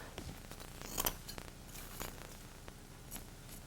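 Scissors snip through ribbon for a holiday garland, a few quiet, crisp cuts spaced irregularly, with one louder snip near the start, close up and otherwise quiet.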